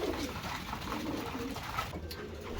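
A young racing pigeon coos softly amid a continuous wash of birds and outdoor noise, with a voice faintly present in the background.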